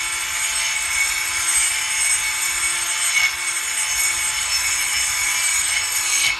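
An abrasive sander grinds material off a roll cage tube, a steady, loud, harsh rasping hiss with a faint constant tone beneath it, continuing unbroken with no talk.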